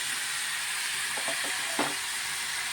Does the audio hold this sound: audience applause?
no